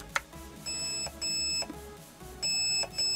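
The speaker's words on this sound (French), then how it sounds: "en position semi, ça me dit que je suis en semi, j'ai un bip" Several steady electronic beeps of varying length from a Perun module in a Krytac Vector airsoft gun, with small clicks between them, close by and fairly quiet.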